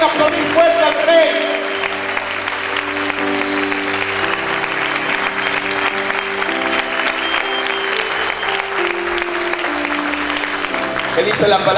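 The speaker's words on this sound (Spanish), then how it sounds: "¿Cuántos pueden aplaudir fuerte al Rey?" Loud, sustained applause from a church congregation fills the whole stretch, steady clapping layered over ongoing worship music with no break.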